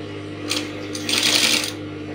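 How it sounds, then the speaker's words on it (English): Domestic sewing machine slowly stitching a Victorian corset top beside the busk, with two short bursts of rapid mechanical clatter over a steady motor hum, fairly quiet and close. "I'm going to sew it very slowly."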